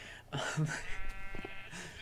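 Sheep in the early Minecraft version bleating in-game, several short overlapping bleats close by in quick succession.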